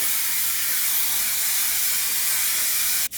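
Aerosol hair gel is sprayed onto hair in one long, steady, loud hiss lasting about three seconds, then cutting off sharply, with no voices.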